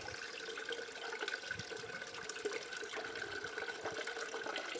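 Gold paydirt tailings are spooned into water, with a steady wash of liquid sound and small splashes over a continuous watery hiss and faint hum, close and moderately quiet throughout.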